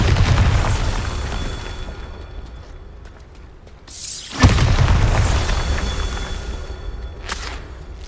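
A Bombarda blasting spell goes off in Hogwarts Legacy as a loud booming explosion, a deep rumbling roar with a sharp second blast in the middle and a trailing crackle after.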